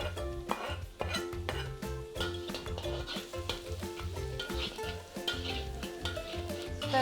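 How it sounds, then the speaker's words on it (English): Chopped garlic sizzling in two tablespoons of oil in a pan over medium heat while being stirred, with steady frying crackle and repeated clinks and scrapes of a utensil against the pan, close and continuous. "And put the chopped garlic in."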